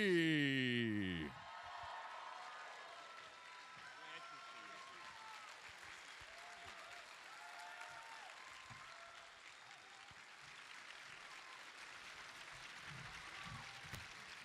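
Applause and crowd noise from a comic con panel audience greet a guest's introduction, a steady clapping wash filling the hall for several seconds after a host's voice at the start.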